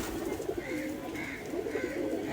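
Pigeons coo softly in a home loft, a Pakistani KTM male paired with a golden female, giving a few low, rolling calls over a steady background hum.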